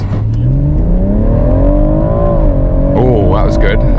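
A 2017 BMW M140i with its B58 engine and ZF 8-speed automatic pulls hard, the loud engine tone rising smoothly through the revs before a quick gearshift near the end, heard up close from inside.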